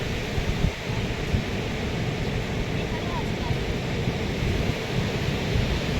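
Sea waves roll onto Mandarmani beach, a continuous broadband surf roar that stays steady and fairly distant for the whole stretch.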